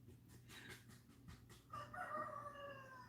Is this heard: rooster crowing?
yes